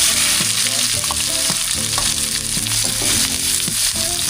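Garlic, onion and ginger sauté in a little oil in a pan, giving a loud, continuous close sizzle with frequent clattering stirs of a utensil against the pan, no talking.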